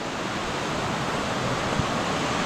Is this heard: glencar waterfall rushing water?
yes